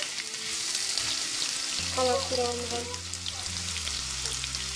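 Onions fry in oil in a pan, giving a steady close sizzle with a few stirring scrapes, while a voice speaks briefly over it.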